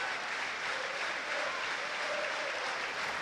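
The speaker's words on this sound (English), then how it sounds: "the home supporters join in with their applause" A football crowd of home supporters applauding in a stadium during the Luton Town against Leeds United match, a steady, distant wash of clapping throughout.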